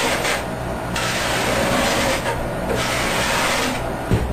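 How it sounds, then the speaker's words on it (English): Close, steady rasping of a scraper and sandpaper working dried glue off the binding of a handmade guitar, a continuous rough rubbing with slight pulses in intensity and no speech. "I'll scrape and I'll sand, just being careful not to overdo it in one place."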